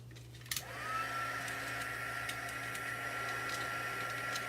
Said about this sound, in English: So I would warm your heat tool up first.